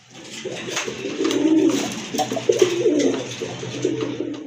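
Domestic pigeons with pure white tails and wings coo steadily in rolling, repeated phrases, close and fairly loud, with a faint constant hum beneath and no talking.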